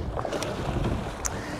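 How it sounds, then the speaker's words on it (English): Wind blows across open water around a rowboat, giving a steady, rumbling microphone buffet. Faint splashes and water sounds sit beneath it. "Right now it's a little bit windy out"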